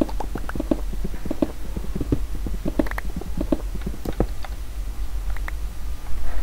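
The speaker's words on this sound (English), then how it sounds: "Hearing water and footsteps on grass." Footsteps crossing grass in Minecraft, a steady run of soft, evenly spaced steps over a low continuous background wash, with no talking.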